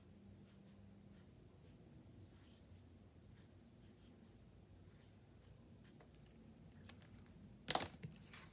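A pen writes on a playing card, making a faint, continuous scratchy rustle across the span with a brief sharper scrape near the end.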